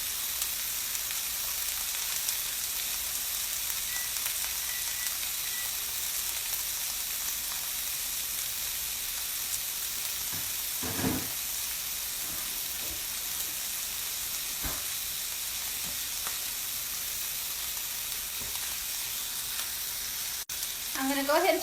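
Sirloin steaks sizzle steadily in a pan over high heat, a loud continuous frying hiss with a few faint clicks and bumps and no talking.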